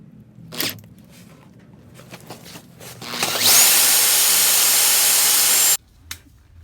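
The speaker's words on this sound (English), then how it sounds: "you need a really good drill bit to drill this, take it off" A power drill whirs loudly and steadily for a couple of seconds while working on a Honda CR-V door, preceded by some clinks and handling noises, then cuts off abruptly.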